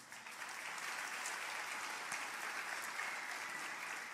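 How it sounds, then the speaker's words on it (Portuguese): A church congregation applauds during a sermon, a steady, dense wash of clapping heard at moderate distance and fairly quiet, with no speech over it. "Dê um aplauso a Jesus."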